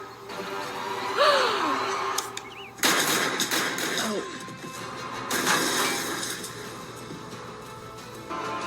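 A C4 charge going off in the TV show Timeless, heard as sudden loud blasts and crashing bursts, with gasps and reactions from people watching around them.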